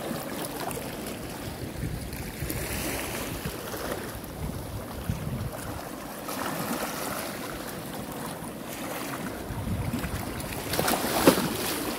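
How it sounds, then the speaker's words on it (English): Ocean waves heard outdoors as a continuous, full rushing wash with gentle swells in loudness and a faint wind-like hiss, lasting about twelve seconds with no voices. "the waves sound"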